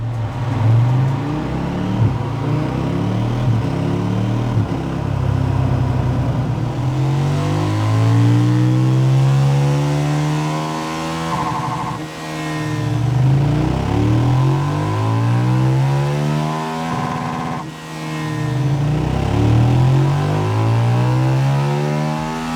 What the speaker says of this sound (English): we're going to put it on the dyno